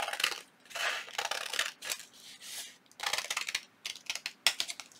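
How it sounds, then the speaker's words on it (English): Scissors trim paper for a small handmade junk journal, close and crisp, in several bursts of quick snipping with brief pauses between cuts. "I'm going to get my scissors and I'm just going to trim."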